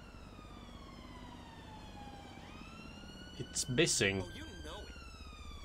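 An ambulance siren in the video game GTA 5 sweeps up and down steadily at a distance while a voice with a British accent speaks briefly over it.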